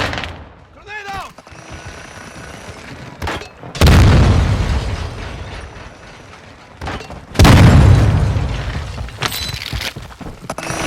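Grenade blasts in the Warzone 2 video game: two loud, booming detonations a few seconds apart, each with a broad rumbling tail, set amid gunfire and game sounds.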